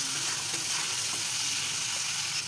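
Duck egg and potato curry is sautéed in spiced oil in a pan, with a loud, continuous sizzle and intermittent stirring scrapes close by.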